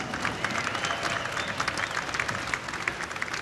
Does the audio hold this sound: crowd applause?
yes